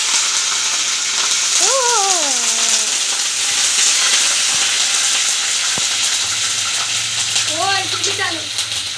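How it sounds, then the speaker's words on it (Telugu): Curry leaves fry in hot oil with a loud, continuous sizzling hiss and crackle, close and steady throughout, with brief voice-like tones rising above it twice. "ఇప్పుడు చూడండి కరివేపాకు వేస్తున్నా"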